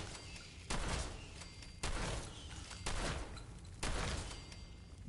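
Repeated gunfire from a weapon in Fallout 4, four or five sharp bursts spaced about a second apart, each with a short rumbling tail, fairly close and moderately loud.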